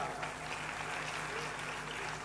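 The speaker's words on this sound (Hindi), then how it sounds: "ताली बजाओ साहब।" An audience claps steadily at a religious gathering, a dense, continuous wash of applause that fills the whole short moment.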